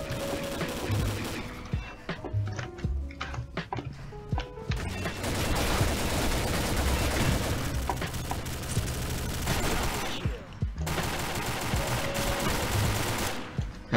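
Rapid automatic fire from M4A1 and AK-74 rifles in the shooter game Combat Arms Reloaded: dense, loud bursts and overlapping volleys that run almost continuously, with brief pauses.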